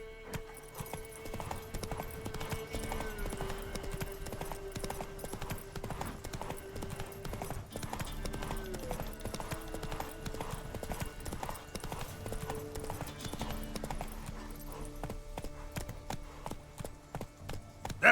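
The horse Roach clip-clops along in The Witcher 3: Wild Hunt, steady rhythmic hoofbeats on the ground, with a brief whinny and musical tones underneath; no speech.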